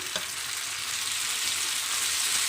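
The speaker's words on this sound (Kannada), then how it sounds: "ಈರುಳ್ಳಿ ಫ್ರೈ ಮಾಡ್ಕೊಳ್ಳಿ" Two large cut onions fry in a pan, a steady close sizzle with a faint clink early on and no voices.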